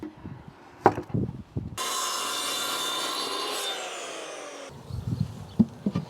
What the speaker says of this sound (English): I can just use my miter saw to cut the right length.